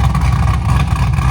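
A modified BMW E36 show car's engine and exhaust rumble loudly and steadily up close from behind, a deep continuous drone with no voices.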